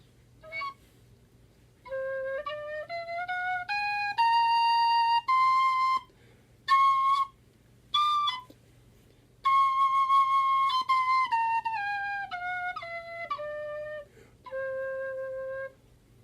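A tin whistle in C plays a clear stepwise scale, climbing note by note then descending again, with short pauses between phrases, solo and close.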